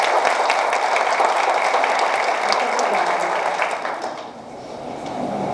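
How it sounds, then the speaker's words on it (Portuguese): An audience claps for a woman psychoanalyst and hypnotherapist introduced at a talk on emotional intelligence and mental health, dense sustained applause that thins and fades near the end. "Uma salva de palmas para ela."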